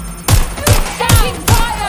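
Gunfire in the video game Watch Dogs Legion: four loud, close, evenly spaced shots in quick succession, each a sharp crack with a heavy low thump.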